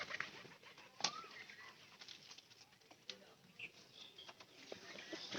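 Pigeons moving about in their coop, with soft wing flaps, scrabbling and faint cooing, all quiet and close, with a voice now and then in the background.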